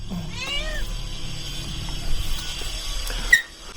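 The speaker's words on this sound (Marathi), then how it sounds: "हळूहळू म्याव करते, खूप म्याव करते" A cat at a Lonavala hillside homestay gives a few soft meows near the start, then goes quiet beside a steady background hum and a faint click near the end.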